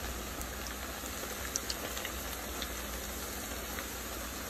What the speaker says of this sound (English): make sure to give them some room while they're frying.